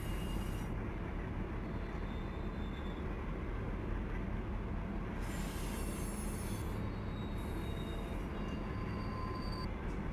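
A freight train rolls slowly through Cajon Pass in the Run 8 train simulator game, with constant loud wheel squeal and rumble filling the whole stretch and no break.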